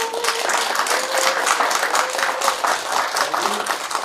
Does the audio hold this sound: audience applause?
yes